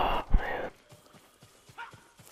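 Hoofbeats of a horse in Ghost of Tsushima, with a short loud burst at the start and then a faint, evenly spaced clip-clop of galloping.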